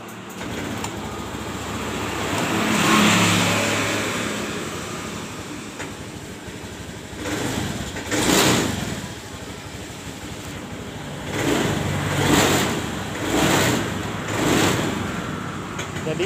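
A Honda Scoopy scooter engine, previously sputtering and stalling, starts and is revved several times. Broad roaring swells rise and fall over a running motor, with a voice speaking faintly underneath.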